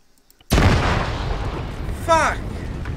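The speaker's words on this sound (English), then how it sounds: "Accidentally put a bunch of bomb missiles on your area." Bomb missiles exploding in the video game Arma 3, a sudden heavy boom after a moment of near silence that rolls into a long rumbling roar, loud and close, with a voice breaking in partway through.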